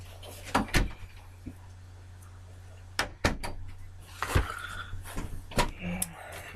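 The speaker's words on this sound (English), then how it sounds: "Shut the door." An indoor door in a laundry room bangs shut with a few sharp knocks and rattles, close by, over a steady low hum, with people talking around it.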